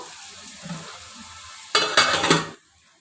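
Bitter gourd pieces fry and sizzle in a pan with a faint steady hiss. A few loud stirring scrapes of a utensil against the pan follow near the end.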